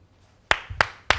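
Three sharp hand claps ring out at roughly even intervals in a television talk show studio, close and crisp against a quiet background with no voices.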